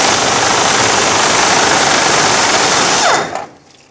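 A power tool whirs steadily while removing the 13mm fuel tank strap bolts on a 1999-2007 Ford F-350 with a 7.3L Powerstroke, loud and close, then winds down abruptly near the end.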